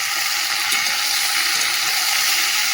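Vegetables frying in a pan with ginger garlic paste, salt, turmeric, chilli powder and cumin powder, giving a loud, continuous sizzle that stays even throughout.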